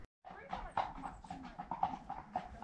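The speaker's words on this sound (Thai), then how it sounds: "เสียงหมาไปแล้วแล้วจะมีม้าขี่ผ่านตลอดถ้าอากาศดี" Dog barking with horses passing along a country lane in an English farming village, a few short barks over soft hoof clatter and outdoor background, with someone talking throughout.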